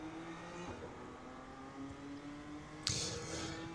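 BMW M2 race car in the iRacing sim at Phoenix road course, engine droning steadily as it accelerates out of a second-gear corner, with a sharp burst near the end as the revs climb.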